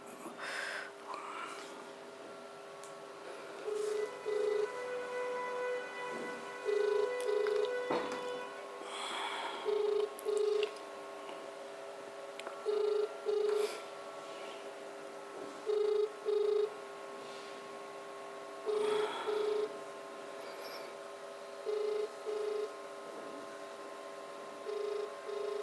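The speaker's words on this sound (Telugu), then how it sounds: "అన్నగారికి ఫోన్ చేద్దాం, ఒకసారి" Outgoing telephone call to a handloom weaver in Bhiwandi ringing unanswered: a steady repeating double-pulse ring tone, about every three seconds, moderately loud over a faint background hum.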